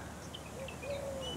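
Birds call from a tamarind tree in a heritage park: a few thin, drawn-out whistles and short chirps float above a constant rushing background of outdoor noise.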